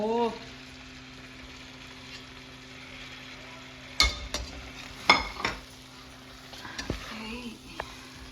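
Shallow-fried chicken is mixed into sizzling masala in a pan, a soft steady frying hiss under a few sharp spoon-and-pan scrapes and clanks in the second half.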